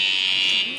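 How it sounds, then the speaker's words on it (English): A quiz show buzzer sounds once at a media industry Jeopardy-style contest, a loud, steady electronic tone held for well under a second before cutting off. "buzzer works on this side"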